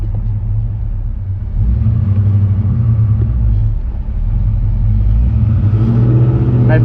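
Car engine under load as it pulls away through a high, stiff manual clutch at a dealership in Sherman Oaks, a steady low rumble swelling near the end as revs rise, close and continuous.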